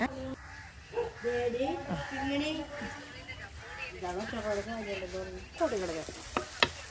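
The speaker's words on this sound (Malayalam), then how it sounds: "അപ്പോൾ ഇത് നമ്മുടെ ഉള്ളിയും പച്ചമുളകും ഇഞ്ചിയും വഴന്നു വന്നിട്ടുണ്ട്" Onion, green chili and ginger sautéing in a pan for a sardine curry give a steady soft sizzle with stirring scrapes, running under continuous talk.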